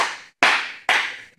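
Three loud, close single hand claps spaced about half a second apart, each sharp attack fading quickly into a brief ring before the next.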